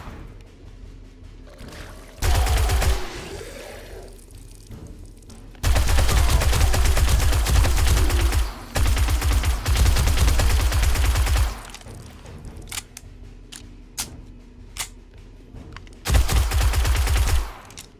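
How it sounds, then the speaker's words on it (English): Submachine gun fire in a school-set video game, several close, loud sustained bursts of rapid shots separated by pauses, with scattered single shots and clatter in between. "Definitely like the SMG much better than the AR."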